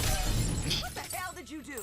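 A glass shatter in an animated Justice League War fight scene, a loud crash with rumbling low end and scattered high debris, followed by a voice speaking over the fading tail.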